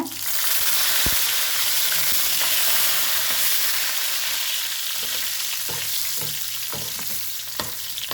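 Garlic and curry leaves sizzle steadily in hot oil while making tomato chutney, a loud, continuous frying hiss with occasional small pops and stirring taps.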